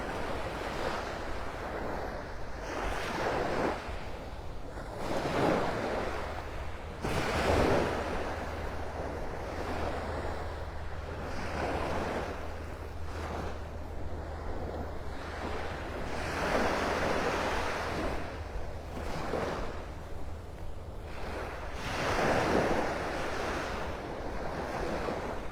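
Ocean waves break on the beach at Clam Pass in North Naples, Florida, a steady rolling surf that swells and crashes every few seconds, with wind buffeting the microphone and no voices.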